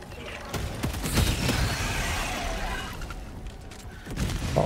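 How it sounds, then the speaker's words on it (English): Orbital strike explosions in Helldivers 2: a sustained roar of blasts and a crackling barrage that swells and then slowly decays, with scattered sharp hits and a little talk mixed in. "Firing orbital strike."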